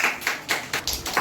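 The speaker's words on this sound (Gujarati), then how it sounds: "ચલો બધા હેતાંશ્રી બાને તાળી પાડી દો." A group of young children at an anganwadi claps together in a quick, rhythmic run of about five bursts, close and fairly loud.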